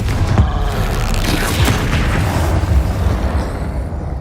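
Confringo blasting curse in Hogwarts Legacy, a loud booming explosion with a rumbling low tail and crackling debris that fades over a few seconds.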